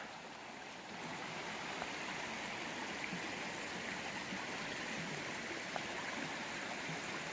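Lance Creek on the Appalachian Trail flows with a steady, even rush of water that fills the whole scene at moderate volume, with no voices.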